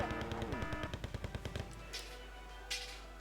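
Machine gun fire in the video game Wargame Red Dragon, a fast rattling burst of about a dozen loud rounds lasting over a second, then two short distant bangs after a pause.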